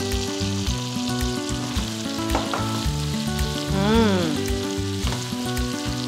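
Baby corn, bird's eye chili and spring onion stir-fried in a hot pan give a loud, continuous sizzle with stirring scrapes, set against a rhythmic tonal backing.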